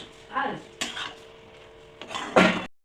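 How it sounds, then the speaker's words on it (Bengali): A spoon scrapes and clanks against a pan as food is stirred, giving a few separate bursts of metallic scraping with quiet gaps between them. "এবার এটাকে নাড়াচাড়া করে নিচ্ছে"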